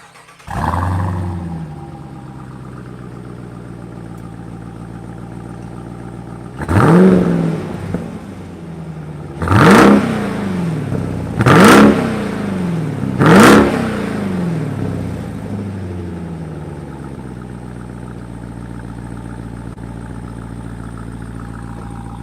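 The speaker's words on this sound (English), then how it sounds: "What you're hearing back here is definitely HEMI V8 noise. But what I hear up in the driver's seat is that supercharger whine." A supercharged HEMI V8 in a 2020 Jeep Grand Cherokee Trackhawk idles with a steady hum and whine, then rises through four sharp, loud revs spaced a few seconds apart, each falling back to idle.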